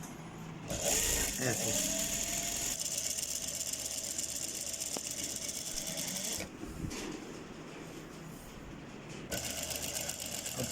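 Sewing machine running a continuous edge stitch along a shirt placket and button tack, steady motorized whirring through most of the stretch with a brief pause, and a short spoken word over it.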